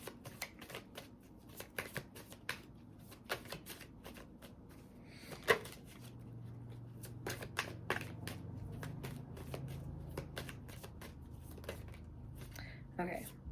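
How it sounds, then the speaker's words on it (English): Tarot cards being shuffled and pulled during a pick-a-card reading, giving a steady run of soft, quick riffling taps and flicks, with one sharper snap midway and a faint low hum beneath. "Let me pull some more of these cards"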